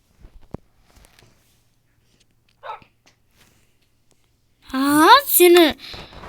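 A Minecraft dog (wolf) barks twice or three times in quick succession near the end, loud and close, after a mostly quiet stretch with a few soft clicks.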